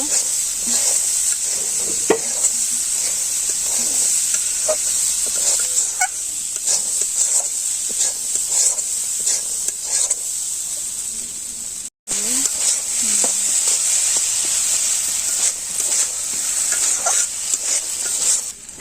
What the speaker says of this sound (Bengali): মশলাটা ভালো করে কষে নিচ্ছি এখন আলু আর ছোলা দিয়ে দিব ভালো করে কষিয়ে নিব